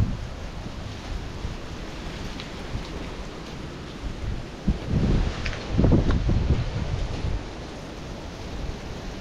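Strong typhoon wind roars with gusting rain in broadband bursts, swelling loudest near the middle and end, no voices present.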